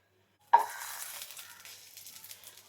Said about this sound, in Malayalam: ഇനിയിപ്പോൾ ബട്ടർ ഇട്ട് കൊടുക്കാം